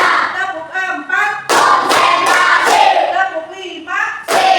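Students in a classroom clapping routine, loud group claps in rhythmic bursts of several strikes, mixed with children chanting counts aloud together.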